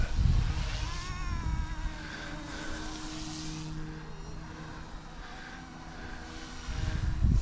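An OMPHobby or Goosky S2 RC helicopter flies at steady rotor speed, a thin whining drone with wavering pitch that swells near the start and end, over wind and outdoor background.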